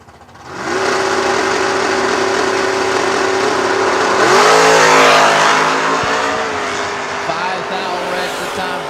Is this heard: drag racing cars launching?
yes